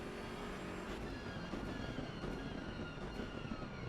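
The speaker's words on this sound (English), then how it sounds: "we do have the bubbly sound of the BMW. And when I say bubbly, just listen to the downshifts" A BMW race car in Assetto Corsa Competizione at Monza, with a whining engine note that rises and falls through the gears amid a dense mix of other race car noise.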